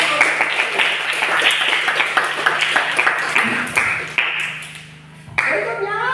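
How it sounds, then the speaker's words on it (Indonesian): Students in a classroom clap for a group that has just presented, a run of uneven claps from a small crowd with voices mixed in, thinning out before a final burst. "Tepuk tangan."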